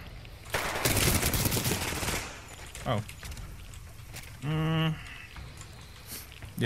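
Rapid weapon fire in the shooter game Titanfall 2, a dense burst of shots for about a second and a half followed by a few scattered single shots and other game sounds.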